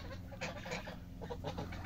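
Hens and ducks in a backyard poultry yard pecking at a pumpkin cluck in short, soft bursts, several calls in quick succession, quiet and close with no talking.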